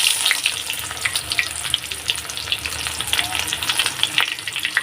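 Onions and cumin fry in a pan, giving a dense, bright crackling sizzle with scattered pops and stirring scrapes, close and continuous throughout.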